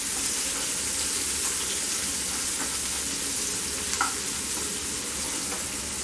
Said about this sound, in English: Now you need to fry it. Once you add the onion, you can increase the flame to medium.